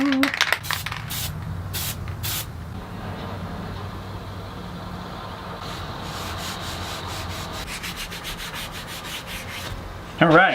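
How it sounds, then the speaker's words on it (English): Spray glue hisses from a can onto wood in several short bursts, then a longer steady spray, close by, ending with a brief clatter as a paper template is readied. "Spray glue!"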